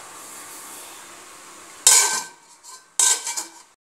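A plate set as a lid over a pot of simmering Tamil fish curry clatters twice in quick, sharp metallic knocks after a faint background hiss.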